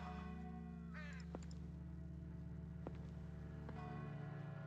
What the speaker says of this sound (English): Large black crows.